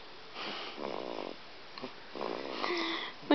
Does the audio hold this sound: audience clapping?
no